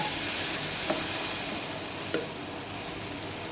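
Sugar syrup is added a little at a time to semolina halwa in a hot pan, giving a steady, loud sizzling hiss throughout with a couple of faint clinks and no talking.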